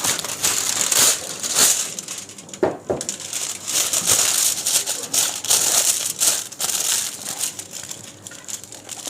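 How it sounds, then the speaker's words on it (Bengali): Foil paper crinkles and rustles as kebab skewers are gripped and slowly pulled off Bangladeshi shik kabab, close-up crackling bursts with uneven rhythm. "এবারে এইভাবে ফয়েল পেপার দিয়ে ধরে শিকগুলাকে আস্তে করে টেনে নামাবেন"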